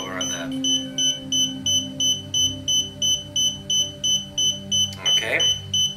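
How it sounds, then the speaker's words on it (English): A high electronic beep from a DJI Spark drone controller repeats in a steady, rapid rhythm throughout, over a low hum, with a brief bump of handling noise near the end. "So I hear one beep."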